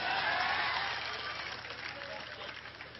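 A crowd at a political rally in Belgaum claps and roars for Navjot Singh Sidhu. The dense, steady wash of applause fades slightly from a loud start, with voices mixed into the noise.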